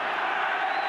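Rugby league crowd in a stadium cheering for Great Britain during a test match against Australia, a dense, steady roar of many voices heard briefly and loudly.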